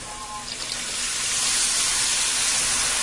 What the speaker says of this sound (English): Add 2 cups of beef broth here.